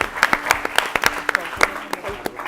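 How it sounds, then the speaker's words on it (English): Audience applause at a national school quiz competition, scattered claps rising briefly in sharp bursts, moderately near, with speech-like murmur underneath. "Let's clap for them, please."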